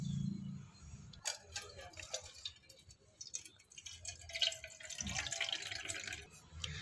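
Lemon peel fertilizer water for rose plants is poured through a filter, giving a steady close-up trickle and drip of liquid with a few soft low thumps of handling.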